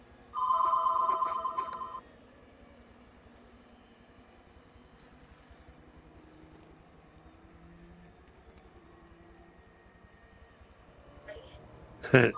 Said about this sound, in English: I wasn't sure who was calling, and I wanted to hear what the phone was going to say on the caller ID